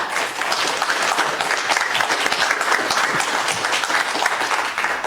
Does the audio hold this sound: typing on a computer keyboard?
no